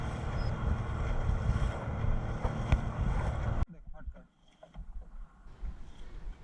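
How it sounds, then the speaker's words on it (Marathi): Strong wind buffeting a fishing boat at sea on a stormy day, heading out to pomfret nets, a loud rumbling roar that cuts off sharply partway, leaving quieter water and motor sounds. "भरपूर वारा आहे आज."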